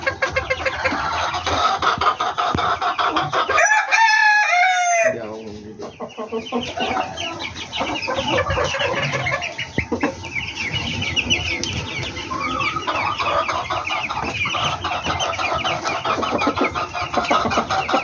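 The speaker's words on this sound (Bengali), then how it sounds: "আজকে আমার ফার্ম কিছু মুরগির কালেকশন দেখাবো" Chickens on a poultry farm cluck and call close by, a dense ongoing flock chorus with one louder, drawn-out call partway through and a voice briefly mixed in.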